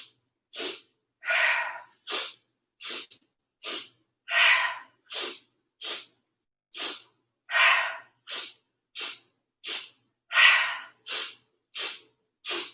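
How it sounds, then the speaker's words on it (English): Rhythmic yoga breathing in a three-part pattern: repeated short sniffing inhales in groups followed by longer audible breath releases, close and clear with no talking, repeating steadily through the whole stretch. "So it's inhale, inhale, inhale, long exhale."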